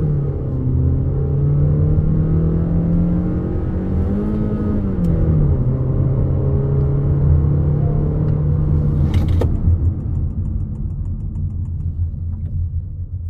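Honda Elevate SUV accelerating from a standstill in a top speed test, a steady engine drone and road rumble from inside the cabin that rises in pitch as it gathers speed, with a brief shift and a click near the end.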